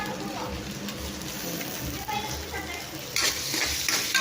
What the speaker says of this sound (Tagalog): Palutuin na natin yung ham.